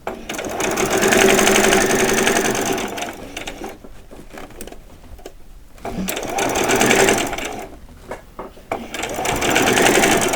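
A sewing machine stitches fabric for vet scrubs in bursts of fast, buzzing, rattling stitching, close and loud, separated by short pauses, with a voice talking in between runs.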